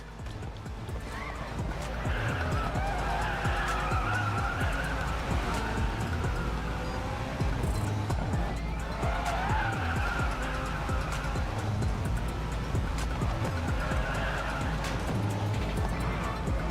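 Race car engines in the mobile racing game Racing Master, a continuous loud roar with shifting pitch and recurring tyre squeals and skids through a ranked team race, close and sustained.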